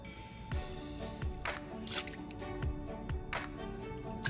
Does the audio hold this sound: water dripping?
yes